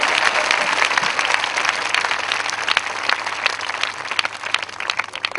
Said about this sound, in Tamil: கைத்தட்டி ஆர்ப்பரிக்க வேண்டும்.